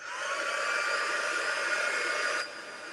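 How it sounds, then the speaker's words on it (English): A craft heat tool blows hot air while distressing cotton gauze for cardmaking, a steady, loud whooshing hiss that drops a notch just before the end. "I brought my heat tool home"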